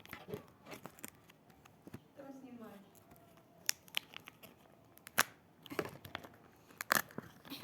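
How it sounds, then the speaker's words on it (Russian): A packaged snowflake ornament is unwrapped, with close plastic crinkling, tearing and snipping sounds in irregular bursts mixed with intermittent speech. "Давайте дальше распакуем вот эту снежинку."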